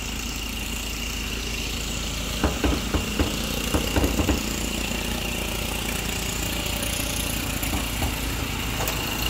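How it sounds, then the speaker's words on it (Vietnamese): A diesel car engine idles steadily with the hood open, a smooth, continuous mid-pitched hum with a few faint knocks and clicks partway through, heard close with no talk. "máy dầu lỗ như này rất là êm rồi các bạn"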